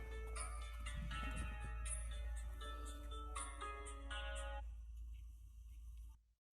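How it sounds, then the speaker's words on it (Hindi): An electronic phone ringtone plays a repeating melodic pattern for about six seconds, fairly clear and steady, then cuts off abruptly. "साहब जी आपका फोन आ रहा है।"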